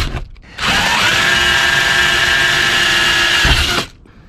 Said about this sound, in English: then we'll drill another one right next to it here.